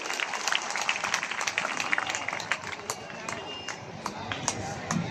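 An audience at an evening stage show claps in a loose, patchy burst, individual claps standing out over murmur and background noise.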